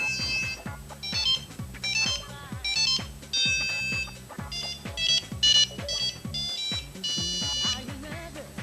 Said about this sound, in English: Oh, and phone call.